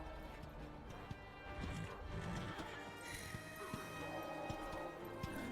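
A ghostly horse's hooves clip-clopping in a Darksiders video game, regular galloping thuds heard at moderate distance under a busy game soundscape of whooshes and rumbles.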